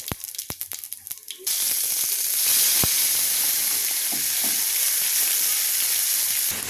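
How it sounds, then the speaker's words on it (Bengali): Cumin seeds dropped into hot oil in a pan after frying potatoes, first a few sharp clicks and then a sudden loud, steady sizzle and crackle close by that stays alone and continuous. "জিরে ফোড়ন দিলাম"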